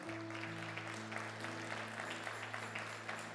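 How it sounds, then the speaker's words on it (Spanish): A church congregation claps together during a sermon, a steady patter of applause under a low sustained hum. "¿Por qué no le damos una ofrenda de palmas al Señor?"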